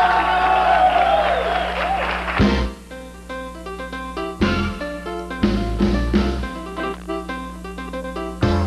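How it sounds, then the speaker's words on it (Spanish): A studio audience claps and cheers for a group of girls on a Mexican TV variety show, a dense burst of applause lasting about two and a half seconds before music takes over. "¡Aplausos para las niñas!"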